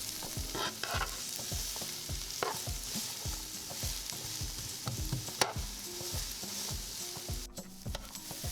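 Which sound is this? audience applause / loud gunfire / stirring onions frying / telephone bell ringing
stirring onions frying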